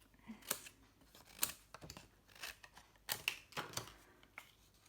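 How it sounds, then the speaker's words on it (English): Scissors snip through paper in a few separate bursts of short crisp cuts, close and moderately loud, with small handling rustles between them and no talking. "got to cut that down a bit"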